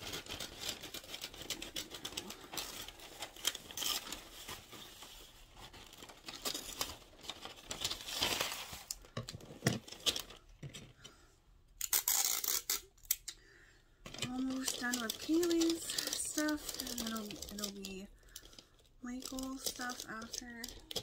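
Scissors snip through wrapping paper in short bursts and crinkles during Christmas gift wrapping, with quieter gaps and a voice talking partway through.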